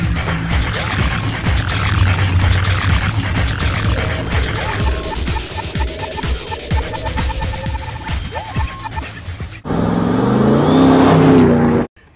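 A car engine fitted with a TorqStorm centrifugal supercharger revs loudly and close, throbbing and rising over about ten seconds, then a brief, sharp blast before cutting off.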